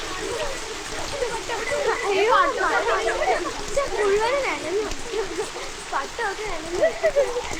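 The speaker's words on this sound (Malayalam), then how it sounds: "മഴ മഴ ഓടിക്കോ ഓടിക്കോ ഓടിക്കോ" Rain falling as a steady wash of hiss and splashing, with people calling and shouting loudly over it throughout.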